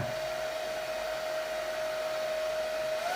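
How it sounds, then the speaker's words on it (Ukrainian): A Houli 5000 hair dryer blows continuously with a steady whooshing roar and a constant high whine, close and loud throughout. "Вмикаю фен."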